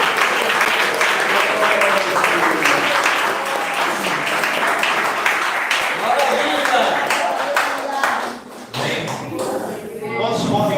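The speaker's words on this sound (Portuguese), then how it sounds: "Levante a mão e aplaude a Jesus bem forte." Church congregation applauding loudly for Jesus with vigorous clapping, mixed with shouting voices and shuffling, briefly dipping near the end before resuming.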